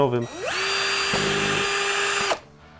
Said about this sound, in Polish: Wystarczy zwykłym wiertłem, tam 2-3 mm.